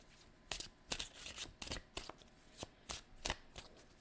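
Tarot cards being shuffled by hand, a series of quick crisp riffling bursts up close at an uneven rhythm, roughly nine flurries with soft rustling between.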